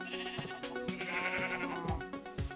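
Sheep bleating in the video game Minecraft, several overlapping bleats from a flock over a steady background of game music, fairly close and moderately loud.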